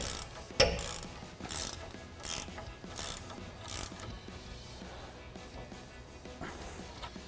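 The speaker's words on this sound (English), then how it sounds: "10mm socket to get on the stud, and I'm gonna tighten that down." A ratchet wrench with a 10mm socket tightens a spring compressor stud on a 2024-2026 Mustang GT, giving several crisp clicking bursts in a steady rhythm, close and fairly quiet, fading into a faint rattle.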